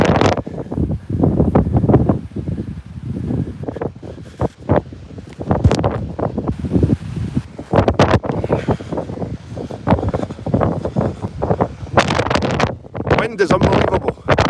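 Strong gusts of wind buffet the microphone on an open hillside near farm terraces, loud and roaring in uneven bursts throughout.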